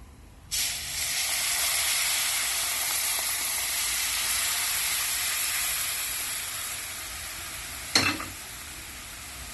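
A loud, steady sizzle bursts up as boiled sugar-and-water syrup is poured into a hot pan of water chestnut flour halwa, hissing continuously for several seconds with a brief clatter near the end.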